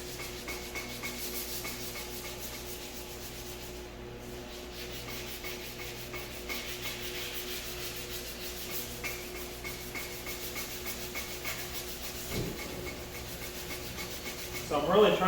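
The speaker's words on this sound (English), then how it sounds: "when you're sanding this primer, it turns colors" Steady back-and-forth sanding of primer on a custom shaved car cowl panel, a continuous close rasping rub held at even volume across the stretch with a low hum underneath.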